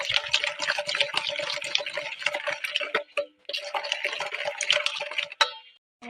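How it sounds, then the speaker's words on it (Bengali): A metal spoon stirs sugar into a bowl for a jackfruit cake, giving a steady run of quick clinks and scraping swirls that pause briefly near the middle, with no talking. "এই চামচটা দিয়ে 1 চামচ চিনি দিয়ে ভালো করে নাড়িয়ে নেবো, চিনিটা গুলে নেব"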